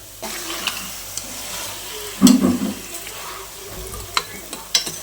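Chicken pieces stirred in a hot pan during home cooking, a soft scraping stir with a brief louder clatter midway and light sizzling throughout, close and fairly quiet, with no talk.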